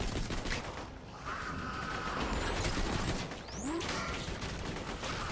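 Rapid gunfire in the video game Borderlands 2 forms a dense, continuous barrage of shots with some whooshing and rising electronic tones over the top, steady and fairly even throughout.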